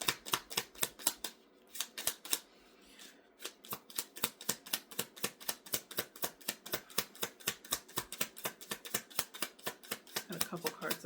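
A large deck of reading cards is split and riffled, giving a fast, even run of crisp flicks close up that pauses briefly and then goes on, with no talk over it.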